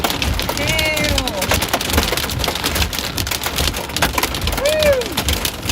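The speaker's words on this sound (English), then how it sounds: "Hail." Dense hail and heavy rain drum steadily on a vehicle during a Texas storm chase, a loud continuous clatter with a few brief voice-like sounds over it.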